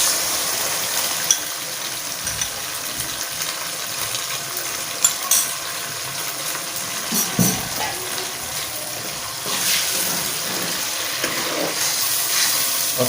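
Tomato paste sizzles among golden brown onions in a pan, a loud continuous frying hiss broken by scraping stirs and occasional utensil clinks.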